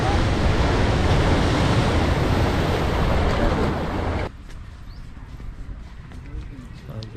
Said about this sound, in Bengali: এখানে জলোচ্ছ্বাসটা দেখাচ্ছি, দেখো বন্ধুরা একবার